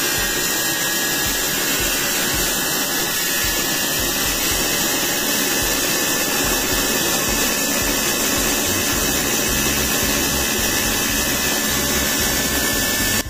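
Steam turbine spinning a DC generator, a loud steady high-pitched whine and rushing hiss with constant mechanical hum, unbroken throughout and close by.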